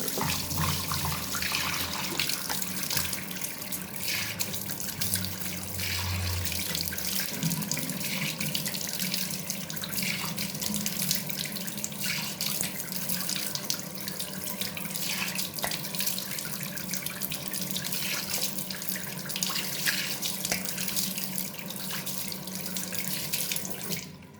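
Tap water runs steadily into a sink during face washing, a continuous close splashing hiss that carries on for the whole stretch with no talking.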